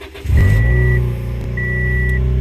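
A Toyota Yaris engine cranks and catches right after an ECU reflash, settling into a steady idle hum, with two short electronic beeps sounding from the car over it.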